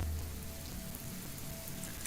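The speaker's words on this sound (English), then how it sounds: "No, it's still raining." Steady rain patters in the survival video game Sheltered 2, a continuous even hiss of falling drops with no talk over it.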